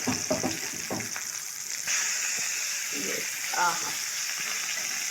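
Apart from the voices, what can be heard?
fish frying in a pan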